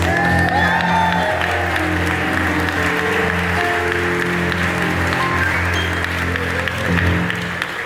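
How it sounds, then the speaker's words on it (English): An indoor crowd at a Fair Maps Day gathering in Ohio applauds steadily throughout, with scattered cheers and whoops rising near the end. "give yourselves a round of applause for our districts in Ohio"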